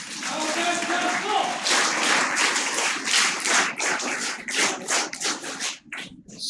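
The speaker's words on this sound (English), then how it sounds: "clap for him." At a liver society conference session in Bhubaneswar, an audience claps for the society's president Dr. S.P. Singh, a burst of fairly close applause that tapers off, with speech beneath at the start.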